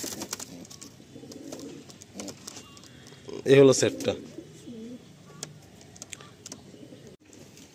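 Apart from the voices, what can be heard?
young pigeons cooing in a loft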